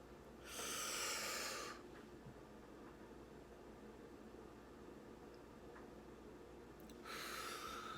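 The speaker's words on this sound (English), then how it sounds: "Breathe in, breathe out." Slow, deep breaths in and out during a guided breathing exercise, two loud airy breaths heard close up, one at the start and one near the end, separated by a long quiet stretch.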